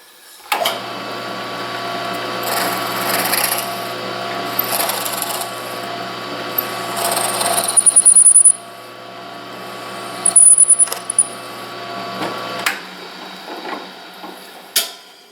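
A drill bores a clean hole in wood while building a fence. A steady, close mechanical whine runs for about twelve seconds with a few brief higher squeals, then stops abruptly.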